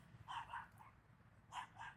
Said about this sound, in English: Nightmare's getting barked at by a chihuahua over there, literally